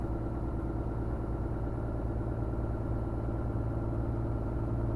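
Small light aircraft engine idling steadily on the ground just before shutdown, a constant low drone with a fixed pulsing rhythm, close and even throughout, with no talk.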